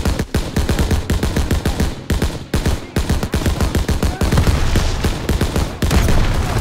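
Rapid automatic gunfire from a weapon in the World War II shooter Call of Duty WW2 rattles in loud, dense bursts. Brief gaps separate the volleys, with no voices over them.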